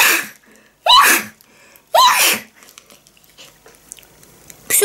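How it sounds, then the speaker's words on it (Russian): Two loud, close sneezes from a woman burst out about a second apart, each a sharp explosive blast, followed by quiet rustling and faint breaths, with the start of another sharp burst at the very end. "Не чихнуть бы сейчас, сейчас чихну."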